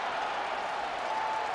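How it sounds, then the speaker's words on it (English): Pro-Mexico crowd at a 2023 World Baseball Classic game rising to its feet, a dense, continuous wash of cheering and applause with a faint steady tone running through it. "this pro-Mexico crowd comes to their feet"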